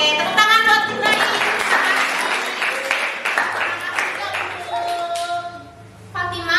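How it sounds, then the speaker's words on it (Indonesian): A class claps for a student named Ibrahim, a brief burst of many hands that is loud at first and then fades, with a teacher's voice and tonal speech around it. "Oke, tepuk tangan buat Ibrahim."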